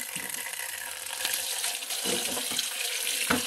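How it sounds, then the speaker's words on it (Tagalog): Water is poured into a container of beans set out to sprout, a close, bright gushing splash that runs steadily with a few heavier pulses, and no one talks. "Lagyan ko lang daw ng tubig yan."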